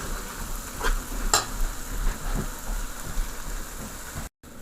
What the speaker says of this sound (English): So this time I'll be adding in the liver.